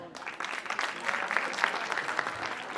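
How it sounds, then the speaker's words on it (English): Students clap at a college techfest prize distribution, a short burst of scattered applause from a modest crowd in a hall, steady and moderately loud. "Please clap, students."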